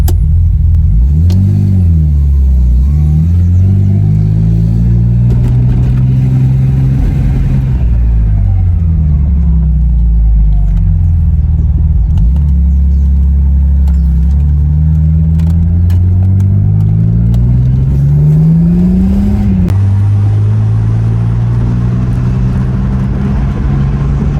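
A BMW with a failing head gasket revs and accelerates hard along the Pacific Coast Highway, its loud, close engine rising and falling through gear changes in a continuous droning roar.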